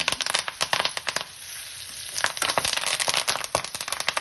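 Dried red chillies frying in hot oil in an Andhra kitchen, giving a close, steady sizzle with crackling pops and bursts that come and go, heard alone.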